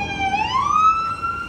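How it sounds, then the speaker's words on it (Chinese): An ambulance siren passes on a street in New York's Chinatown, wailing loudly and close by, its pitch sweeping upward over low traffic rumble. "好危险，救护车这样开过来"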